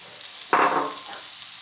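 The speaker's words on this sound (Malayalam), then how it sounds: "ഇനി അടുത്ത് നമുക്കിതിൽ സവാള ഇടാം." Finely chopped onions hit hot oil in a pan with a sudden loud sizzle, the frying hiss fading gradually over about a second, with no talk.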